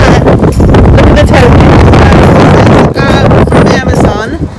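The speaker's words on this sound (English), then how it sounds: "And it's very windy right now. Look how windy it is." Strong gusts on a very windy day buffet the microphone with loud, continuous roaring rumble that barely lets up over several seconds.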